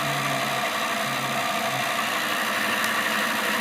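A homemade motor generator built like a flywheel runs at speed, giving a steady, even mechanical hum and whir with no pauses, close by and alone.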